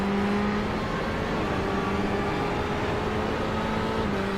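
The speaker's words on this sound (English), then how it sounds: "Andrew Horsley coming through in the GTE Ferrari" Ferrari GTE race car at the Montreal circuit, its engine a steady, loud droning hum with a faint tonal whine that holds constant throughout.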